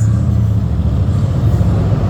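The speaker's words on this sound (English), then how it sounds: "Once the motorcyclists pass" Motorcycles rolling past at a Hollywood Walk of Fame ceremony, a loud, steady low engine rumble filling the whole stretch with no break.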